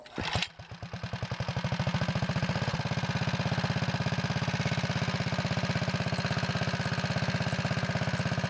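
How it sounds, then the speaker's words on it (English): Kohler engine on a Wheel Horse Model 401 tractor runs steadily after a brief start, its carburetor being adjusted with the idle speed set a bit high; a loud, even, close putter with no talk. "I'm going to set the idle speed screw up a bit, just to keep the engine running while I fiddle with it."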